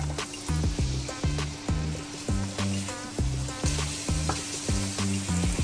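Red spice paste for tuna frying hard as water is added, giving a loud, dense sizzle that bubbles and spatters in rapid, regular pulses.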